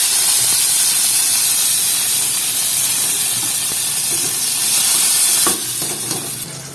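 Ginger sautés in a hot pan for a river clam dish, giving a loud continuous close sizzle and hiss with occasional stirring clicks toward the end.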